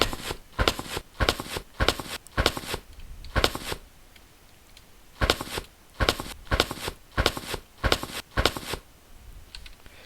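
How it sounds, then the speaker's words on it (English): Footsteps in a Unity battle royale video game, two runs of evenly spaced crisp steps separated by a short pause, close and clear with no speech. "Foot sounds, check."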